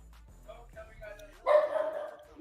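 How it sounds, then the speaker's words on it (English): Dogs bark in short sharp bursts during a busy home watch party for a football game, the loudest bark coming late amid background voices and household noise. "Now I got barking dogs over here"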